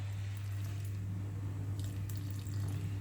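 Water poured into a gluten-free pastry mix in a home kitchen, a steady soft trickle and splash that runs continuously at close range with a low constant hum beneath.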